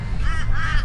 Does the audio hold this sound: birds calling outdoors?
yes